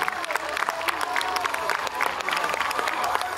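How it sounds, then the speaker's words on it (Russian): An audience at the Samson 43 bodybuilding competition claps and cheers for the athletes during posing comparisons, a moderately loud, steady burst with scattered louder claps and some crowd voices mixed in. "Поддержим аплодисментами."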